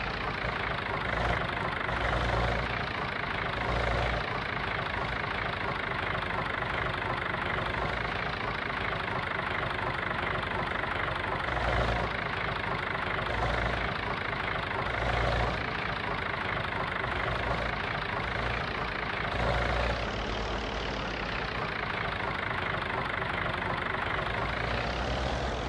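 A tractor engine idles in Farming Simulator 22, a continuous low mechanical drone with a faint knocking pulse, steady and close throughout, with a slight shift in tone near the end.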